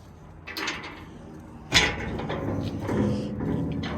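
A side door on an Ironbull 7x14 high-side low-profile hydraulic dump trailer swings open, with a sharp metallic clunk of the latch near the middle followed by creaking, rattling movement, close and fairly loud.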